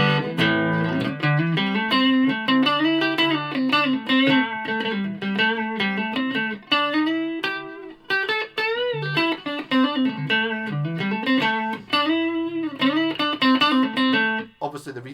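Electric guitar on the neck pickup plays through a Carlton HGS100 amplifier with reverb on, a continuous loud run of sustained notes and chords, slightly distorted, with no talking.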